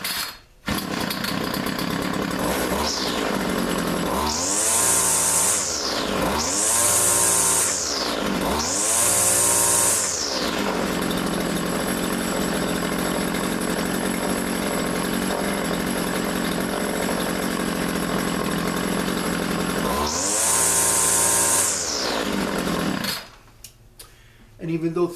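Two-stroke John Deere weed eater engine, in bad shape, running loud and close, revving up in three quick rising surges, settling to a steady high drone, then surging once more before cutting out.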